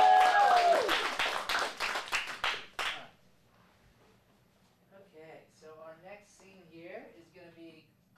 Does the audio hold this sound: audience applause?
yes